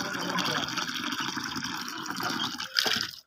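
Water pours into a pot set out for pigeons at a home bird loft, a continuous splashing fill with a sharper gush near the end.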